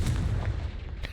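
Explosive Confringo spell blasts in the Hogwarts Legacy video game, a burst of booming, crackling detonations up close that rumble and fade over about a second, with no speech over them.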